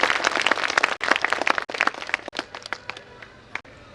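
An audience at a business celebration program claps in scattered, uneven bursts, fairly close but modest in volume, thinning out and fading toward the end.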